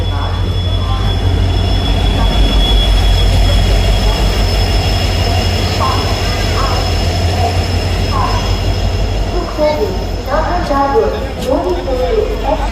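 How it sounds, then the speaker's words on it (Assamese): A passenger train pulls into a station with a loud, continuous rumble of wheels on rails and a low engine drone, plus brief squeals and clatter, while people talk nearby. "আমাৰ ট্ৰেইন আহি গ'ল।"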